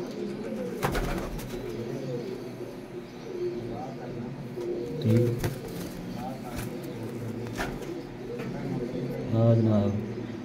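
Pigeons coo repeatedly in soft, low bursts close by, with someone talking intermittently over the steady cooing.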